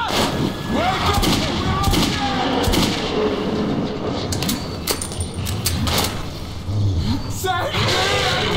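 Gunfire in the Metro 2033 game, repeated loud shots and thuds amid frantic shouting voices, with metallic clinks throughout the chaotic scene.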